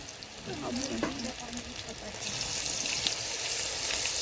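Marinated pakoras frying in hot oil, a steady close sizzle with a faint stirring knock about one second in, growing a bit fuller and brighter in the second half.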